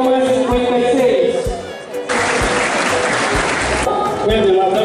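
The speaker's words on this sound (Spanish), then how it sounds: "fuerte los aplausos para ellos" Audience applauding a new high school graduate at a graduation ceremony in Monterrey, La Concordia, with steady clapping throughout that swells into a dense, loud burst midway, mixed with crowd murmur and a voice.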